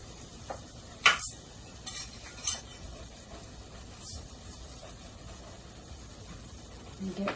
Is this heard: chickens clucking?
no